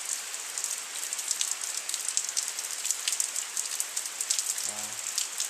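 Monsoon rain pattering on a clay-tiled village roof and dripping from the eaves, a dense steady hiss of drops close by, with a short faint tonal sound near the end.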